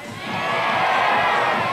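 A crowd cheers and roars at a 1998 Asian X-Trials motorcycle trials riding event, a dense, sustained wall of shouting and whooping that swells slightly and holds steady throughout.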